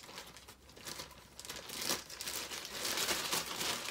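A bag of all-purpose flour crinkles and rustles as it is handled while measuring baking ingredients, a steady papery crackle close by that grows louder and denser toward the end, with no talking.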